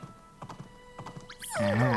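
Horse galloping in the farming video game Doraemon Story of Seasons, a run of soft hoofbeat thumps, then a loud whinny with game music swelling at the end.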